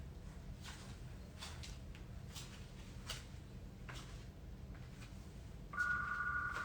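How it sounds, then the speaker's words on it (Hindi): A phone rings with an electronic tone that starts near the end, over steady background noise with faint clicks and rustles throughout. "अरे फोन आ रहा है।"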